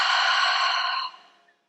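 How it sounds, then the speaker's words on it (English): A deep breath drawn in through the nose and let out fully during a closing yoga practice, heard as a close, soft airy rush lasting about a second before fading quickly to quiet. "Taking a big inhale through the nose. And a full complete exhale."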